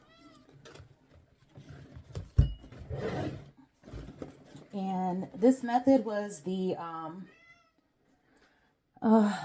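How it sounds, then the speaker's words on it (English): A cat meows several times in clear, close calls with rising and falling tones, heard between and over a person speaking while making a bow from wired ribbon. "there's my cat again"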